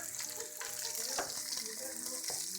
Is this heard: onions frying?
yes